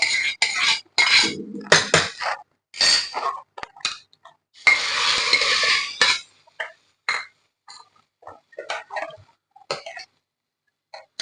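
Fried tempering is tipped into a pot of lentil-free tiffin sambar, with sharp metallic clatters of the pan and spoon against the pot and a short burst of sizzling partway through, separated by quiet gaps.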